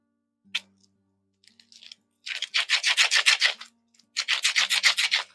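Sticky epoxy sculpting putty used as adhesive is kneaded by hand close up, giving bursts of wet, rubbing squelches, one longer run of rapid pulses and then another after a brief pause, with no talking.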